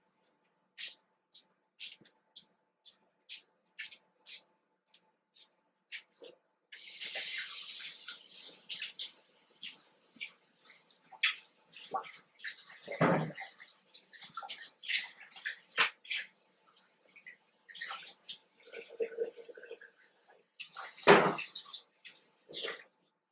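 Water gushes and sprays steadily while a stained tablecloth is rinsed outdoors at an off-grid homestead, preceded by a run of regular light taps and followed by intermittent splashes and clunks, fairly quiet and close.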